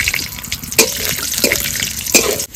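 Cashews and raisins fry in hot oil, bubbling and sizzling up close with a few sharper crackles and stirring knocks at irregular moments, no voices present.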